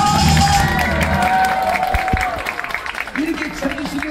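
Audience at a traditional Korean tightrope-walking (jultagi) performance in Gyeongbuk applauds and shouts chuimsae calls of encouragement, loud and close, with shouted voices and a sung or called line rising over the clapping toward the end.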